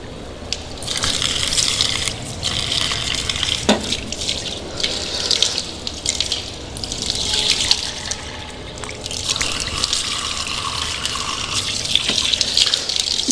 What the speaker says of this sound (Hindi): इस तरीके से आपने 3 मरतबा चेहरे को धुलना है। अच्छे तरीके से सारा हिस्सा जो नहीं सब गीला हो जाए, पानी बह जाए।